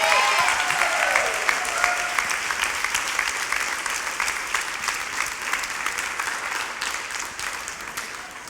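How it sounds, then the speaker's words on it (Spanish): A church congregation in Cali claps together during a Sunday service, a full burst of applause that starts strong and slowly thins and fades across the stretch, with a faint voice briefly at the start. "dele un fuerte amén y un fuerte aplauso al Señor"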